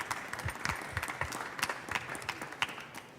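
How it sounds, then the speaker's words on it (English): A small conference audience applauds panelists at a biodiversity and private-sector panel, scattered close hand claps forming moderate, uneven applause that holds steady for a few seconds. "give a round of applause to our panelists before we close"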